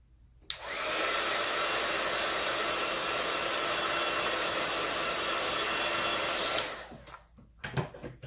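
A heat tool blows steadily for about six seconds, drying and heat-setting freshly stamped ink on a craft project, switching on and off with sharp clicks; a few faint handling knocks follow.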